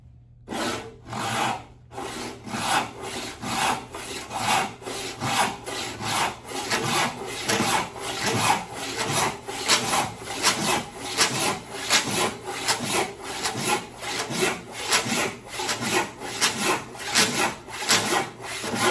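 A restored 10 PPI hand saw rips through 5/4 sawn white oak in a steady series of about 28 loud, rhythmic push-and-pull strokes, each rasping cut close and clear with no talking.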